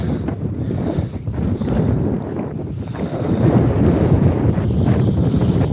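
Strong wind gusting from the northeast across an evening fishing campsite by the water, a loud continuous roar buffeting the microphone, rising and falling in surges with no voices.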